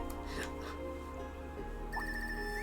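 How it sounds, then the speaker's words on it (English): A telephone rings in the video game Trails of Cold Steel 3, a repeating electronic trill that grows clearer near the end over steady game music and ambience. "Yeah, it appears that the phone is ringing."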